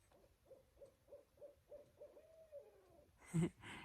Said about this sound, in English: if you look at eastern barred owls, they say that they are like really rare